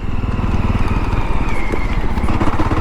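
A Jawa Bobber 42 motorcycle rides in second gear along a pothole-filled road, its engine thumping in a loud, steady, close-up rhythm with no talk over it.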